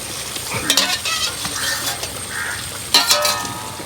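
Cooked chicken scooped and stirred into sizzling curry gravy in a pan, a steady wet sizzle with scraping spoon strokes around the pot, close and fairly loud, no talking.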